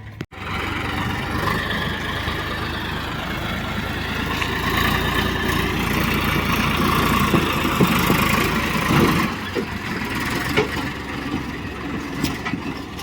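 A farm tractor engine running at steady idle in a village, a continuous mid-pitched chugging drone heard close and fairly quiet, with a few faint knocks and clatters near the end.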